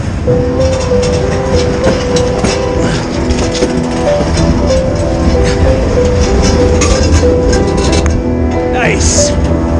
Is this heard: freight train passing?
yes